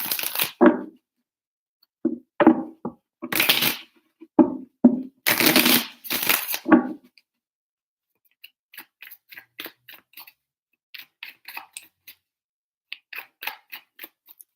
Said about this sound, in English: Three shuffles for Aquarius.